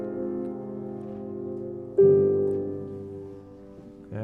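A Phrygian half cadence in Baroque style, sustained harmonic chords that move to a new louder chord midway, then fade before a final onset, with no talking.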